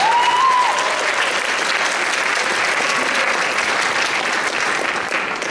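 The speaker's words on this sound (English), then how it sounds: "Clap for Kevin again, he's real good." An audience at a school choir concert applauds a performer named Kevin, a thick, continuous roar of clapping that holds steady for several seconds.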